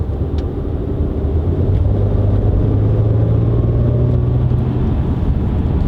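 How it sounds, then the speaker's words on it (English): A Mercedes C400 BiTurbo V6 engine runs at low revs, about 1500 to 2500 rpm in comfort mode, a steady, deep droning hum that stays even and close throughout. "Even on lower RPMs, you hear the engine very well."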